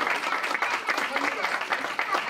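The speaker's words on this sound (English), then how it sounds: "that's worth a round of applause." Audience applause at a concert of Bengali devotional kirtan sung poetry: a dense, steady wash of clapping from a crowd that holds evenly for about two seconds.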